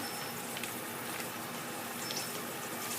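Panang curry paste fries in hot oil in a pan, giving a steady, even sizzle and bubbling hiss that holds at a constant level, close and with no voices.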